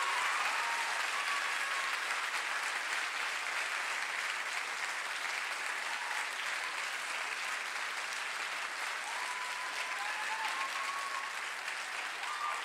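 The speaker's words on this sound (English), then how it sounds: "Give them one last round of applause." Audience applauds a school wind ensemble at a band concert, sustained even clapping from a full hall with a few faint whistles, steady from start to finish.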